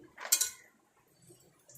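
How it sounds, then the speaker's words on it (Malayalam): A spoon clinks once against a pan of milk heating for tea, a single bright close tap followed by faint scraping and quiet rattling. "നമുക്ക് സ്പൂൺ കൊണ്ട് ഇളക്കാം"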